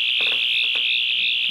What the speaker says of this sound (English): That sound is coming from the Lego TARDIS.